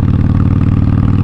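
A vehicle engine runs loud and close, a dense low rumble with fast rough pulsing from the popping exhaust, with no talk.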